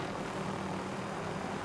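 Helicopter in a video game, a steady dense rotor-and-engine roar, continuous and fairly close, with no speech heard.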